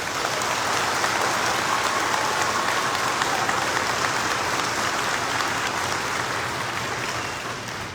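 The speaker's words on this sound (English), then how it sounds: "Let's give our chaperones and our leaders a round of applause" A crowd gives sustained applause for the chaperones and leaders at a JROTC STEM leadership camp graduation for cadets in Orangeburg, South Carolina. The clapping is dense and steady for about eight seconds and fades slightly at the end.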